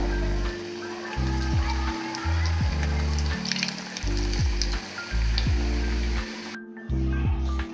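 Sweet karanji pastries deep-frying in hot oil: a dense, loud bubbling sizzle runs throughout, broken by a few clunks and thumps as pieces are lifted out, then fades sharply near the end.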